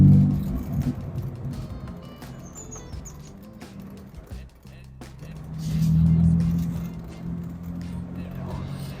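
A 2004 Morgan Roadster with a 3-litre V6 drives along, its engine a steady low drone that swells as it accelerates, with faint bird chirps above.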